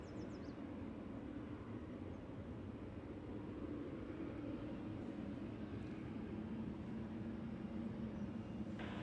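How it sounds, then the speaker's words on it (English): A Boeing 777 airliner taxis at Ted Stevens Anchorage International Airport, giving a steady, broad jet-engine rumble and hiss that holds level throughout at a moderate distance, with no voices. "Let's go to the 777 taxiing on Tango"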